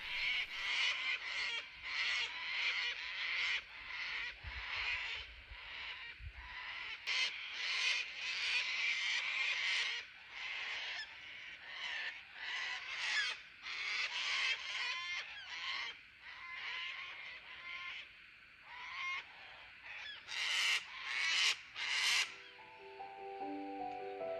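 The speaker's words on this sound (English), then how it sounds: "The cockatoos are a noisy bunch" Cockatoos calling repeatedly, loud harsh screeches in overlapping bursts from a noisy flock, some nearer and some farther off, continuing through the whole stretch.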